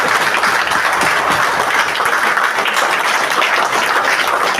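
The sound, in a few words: audience clapping to welcome a guest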